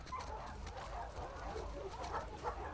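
A dog barking in The Last of Us Part 2, repeated yelps and barks over a steady dense game background, moderately loud and continuous throughout.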